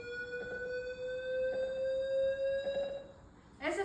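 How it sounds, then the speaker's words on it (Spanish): Simple digital sine wave tone held steadily at one pitch for about three and a half seconds, faint and plain, with a voice starting to speak at the end. "Esa es una onda sinusoide simple."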